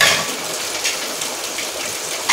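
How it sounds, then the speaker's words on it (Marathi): Steady rain falling outdoors in the evening, a continuous hiss of drops on surfaces with a few brief louder splashes, no voices. "पाऊस चालू झाला"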